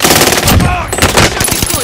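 Rapid automatic gunfire in the video game Warzone, loud, close bursts of machine-gun shots in quick succession.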